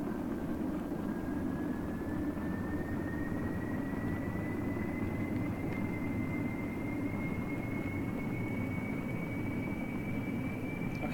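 A spaceplane engine in Kerbal Space Program throttles up as a steady, loud roar with a tone that slowly rises in pitch and holds without a break, and no one speaks.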